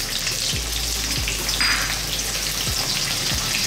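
Onions, fresh chili, curry leaves and rampa sizzle in a hot pan, a loud, steady frying hiss with occasional soft thumps as the ingredients are tossed.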